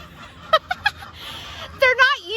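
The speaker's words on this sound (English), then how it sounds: "So today, all the chickens are gonna be stuck in the run," Chickens shut in their run give three quick clucks close by, then a longer run of rising, squawking calls after a short pause.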